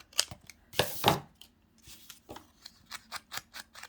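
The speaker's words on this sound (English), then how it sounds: "I'm going to cut just across here." Scissors cut across paper in a row of crisp snips: a couple of longer slicing cuts early, then a quicker run of short, close clips.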